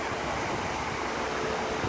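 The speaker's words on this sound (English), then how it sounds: "The wind has been a little bit aggressive here the last day or so." Steady, strong wind roars across an outdoor resort pool area in Moab, Utah, a dense broadband rush buffeting the microphone without pause.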